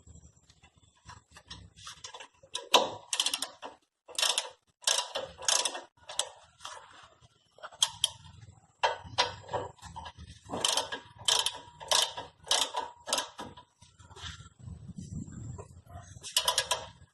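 Ratchet wrench tightening the caliper bracket bolts on a Hyundai i10 during a disc brake job, close clicking bursts in irregular runs with short gaps, no talking.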